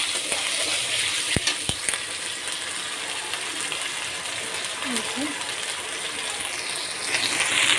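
Ginger paste frying in a pan for pulao, a steady close sizzle with a couple of sharp metallic clinks of a utensil early on, continuous and fairly loud, with faint voice-like sounds in the background.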